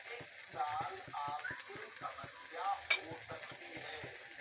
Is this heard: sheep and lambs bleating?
no